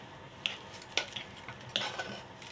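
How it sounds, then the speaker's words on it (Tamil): A spoon stirs samba wheat into ghee in a small pan, giving faint scraping and a few light metallic clinks over a low sizzle, quiet and close, with no voices. "அதில் கொஞ்சம் சம்பா கோதுமை போட்டு கலந்து இதில் சேர்த்துடலாம்"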